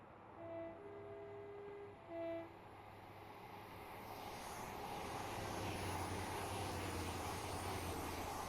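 A Class 800 train running on diesel engines passes in Train Simulator 2022, its low engine rumble swelling steadily as it approaches, after two short tonal horn-like blasts early on; quiet overall with no talk.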